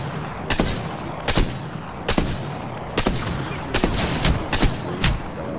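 Gunfire in a battle royale video game cracks out in rapid sharp bursts, several distinct shots and short volleys in quick succession at close range.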